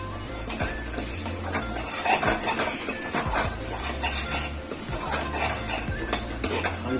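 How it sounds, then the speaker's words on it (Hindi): Paneer masala being stirred and fried in a kadhai, with a spoon scraping and clinking against the metal pan in an irregular rhythm over a steady low sizzle, close up and with no talking. "हम इसे 4 से 5 मिनट तक भूनेंगे।"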